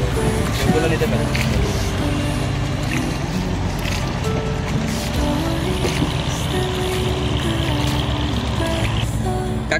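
Boat travelling on the Buriganga river in Old Dhaka, a continuous loud engine drone mixed with water wash that holds steady for the whole stretch, with voices heard now and then.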